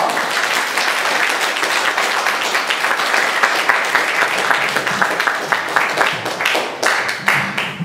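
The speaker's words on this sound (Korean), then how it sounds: "비타민 박수 크게 올려드립니다." Congregation at a new-year fasting revival service breaking into loud, sustained applause, dense overlapping claps filling the whole stretch with sharper bursts near the end.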